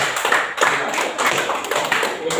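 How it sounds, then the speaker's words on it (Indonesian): A classroom audience claps for a student group after its presentation, giving a steady burst of close applause with a few voices mixed in. "Kita tepuk tangan untuk kelompok"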